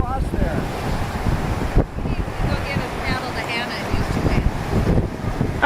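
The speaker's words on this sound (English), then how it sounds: "the wind's just blowing right across there" Wind gusts across the Zrmanja River, roaring steadily against the microphone with rumbling buffets, while people talk faintly nearby on the water.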